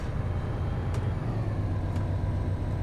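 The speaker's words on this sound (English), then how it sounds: "I like as you're driving along the random rattle sounds." A bus drives along in the City Transport Simulator video game, its engine humming low and steady with faint rattles and two brief sharp ticks about a second apart.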